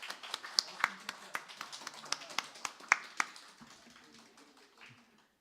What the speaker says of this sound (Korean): 우리 서로 박수 치면서 우리 서로 환영하도록 하겠습니다